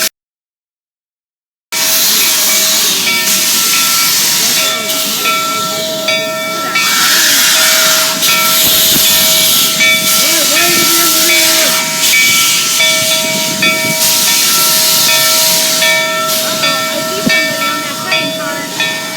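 Loud hissing steam and a sustained whistle-like tone from an arriving steam locomotive in a ghost town, with rumbling and faint voices underneath.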